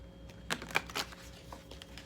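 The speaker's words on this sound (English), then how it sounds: "I just like brutal shuffles with this deck" A tarot deck being shuffled hard in quick riffling bursts, close and fairly quiet, with soft papery snaps and no talk.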